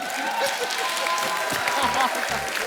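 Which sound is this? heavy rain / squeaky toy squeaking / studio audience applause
studio audience applause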